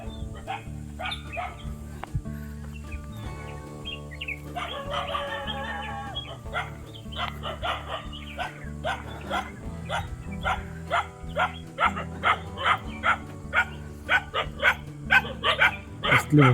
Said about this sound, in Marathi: कुत्र्याचा आवाज येतो